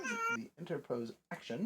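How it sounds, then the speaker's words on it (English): A cat lets out a short, tonal meow at the start, followed by a person speaking. "That's not a baby. That's a cat."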